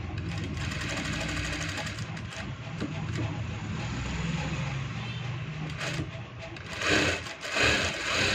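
A sewing machine stitches along the margin of a shirt collar, a steady close mechanical whir that runs for several seconds, with a brief louder burst near the end.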